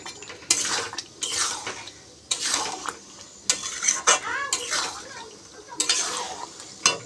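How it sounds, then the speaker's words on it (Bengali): Chicken pieces are tipped into a pan of frying potatoes for chicken curry and stirred, giving repeated metallic clatters and scrapes of a spoon against the pan in uneven bursts, close and fairly loud, with a faint sizzle underneath. "মাংসগুলো ঢেলে দেব।"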